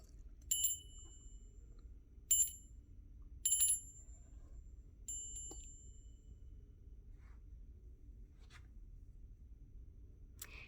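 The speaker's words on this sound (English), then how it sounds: "there was the wire, and there's the bell that would ring" Old toy bell with a wire-operated striker, ringing in four separate bright metallic dings spaced a second or two apart, close and clear over a quiet background, with light handling noises between the rings.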